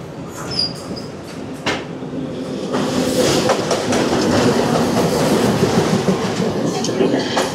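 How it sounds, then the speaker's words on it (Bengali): A passenger train on the Colombo to Galle line in Sri Lanka rumbles close by. The muffled clatter swells into a loud, steady rolling clickety-clack about halfway through. "5 নম্বর প্ল্যাটফর্মে আসছে ট্রেন নাম্বার 8086।"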